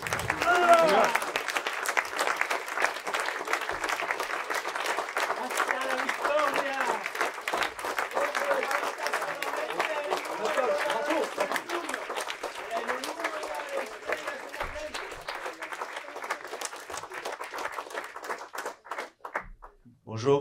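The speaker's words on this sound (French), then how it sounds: "je vais vous demander de forts applaudissements" Sustained applause from a crowd, dense clapping that holds steady for a long stretch before tapering off near the end.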